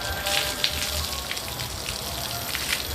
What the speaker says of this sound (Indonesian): Kita bilas dulu, dibilas.